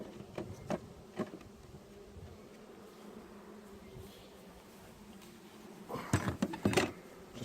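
Honey bees swarm and buzz around an open hive being split for transfer to a top bar hive, a steady close droning hum with louder individual bees passing near, plus occasional knocks of hive parts being handled.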